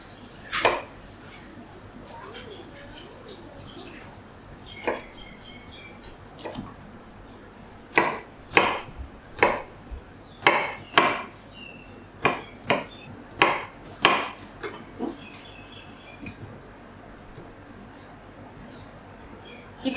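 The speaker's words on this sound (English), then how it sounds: "This is how you cut pepper without touching the" A knife cuts a bell pepper on a cutting board while a Thai beef stir fry is being made. Crisp, close taps and slices come sparse at first, then fall in a quicker run of about a dozen strokes.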